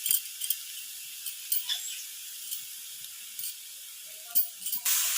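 Grated coconut meets a hot wok for a sweet pitha filling, giving a steady, moderate sizzle and hiss with a few brief scraping clicks from a spatula, and no talk.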